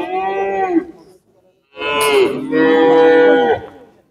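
Two drawn-out calf moos at a livestock market in Aksukent, close and loud, with a short pause between them and a faint voice near the start.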